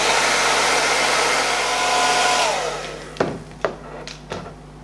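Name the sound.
blow dryer blowing cool air on a wig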